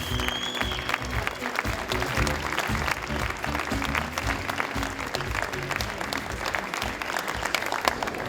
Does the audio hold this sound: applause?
yes